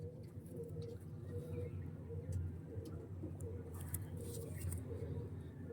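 Panja pigeons coo in a low, steady murmur that runs throughout, close and fairly quiet, with faint rustles and a soft voice now and then.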